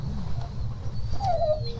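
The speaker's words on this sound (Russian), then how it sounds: "Привет, песик." Dog whimpering in the 35MM video game, a single thin whine rising and falling near the end over a low rumbling ambient background.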